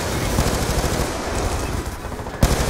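Automatic weapon fire aimed at an enemy CLAW robot in Call of Duty: Black Ops 2, a loud, continuous machine-gun chatter up close with a sharp louder shot near the end.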